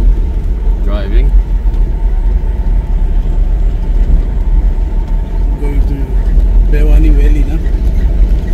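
A car drives along, its engine and road noise forming a loud, steady rumble throughout, with brief voices breaking in near the start and toward the end.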